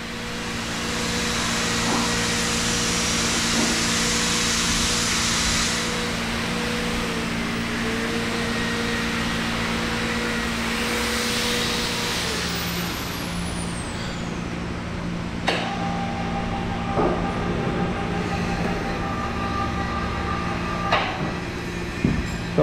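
A Marachekku wooden oil press (a wooden crusher pressing oil) runs with a continuous, loud mechanical drone and steady tonal hum, with occasional sharp knocks and clanks toward the end.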